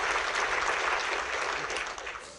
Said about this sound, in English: Big round of applause to Jeff Corwin, please.